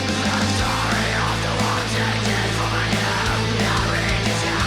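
A basic recreated hall reverb in a black metal mix spreads a dense, continuous wash of loud sound, with swelling, sweeping tones and a steady low drone under it, no voices.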